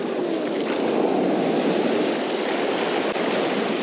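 Ocean surf washing steadily onto a sand beach where sand fleas are dug for surf fishing, a loud continuous rushing wash with wind buffeting the microphone throughout.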